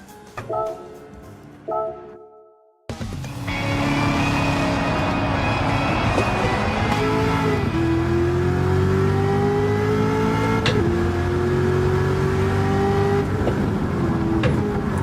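A Camaro's engine in the racing game Gran Turismo 7 starts after brief tones, then idles and revs up steadily with rising pitch and a shift around ten seconds, loud and close throughout.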